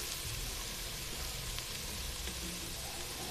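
Vegetables for fried rice sizzling steadily in hot oil, a dense continuous crackle with no voices over it.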